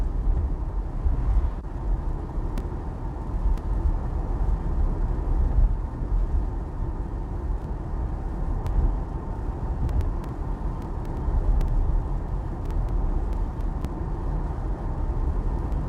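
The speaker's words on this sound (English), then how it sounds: "the noise in the Model Y is acceptable" Steady low road rumble and broadband cabin noise inside a Tesla Model Y Long Range on a road trip, a constant drone with no talk.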